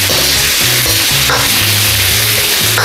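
Pork meat stir frying with ampalaya in a hot pan gives a loud, continuous close sizzle with rhythmic scrapes and clanks of a spatula stirring against the pan.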